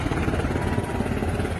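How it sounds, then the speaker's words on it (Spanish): An armed Black Hawk helicopter flying over Kabul gives a steady, loud, rumbling rotor and engine drone that holds constant from start to finish, with no voices. "Este helicóptero Black Hawk artillado volando hoy sobre Kabul con la bandera talibán."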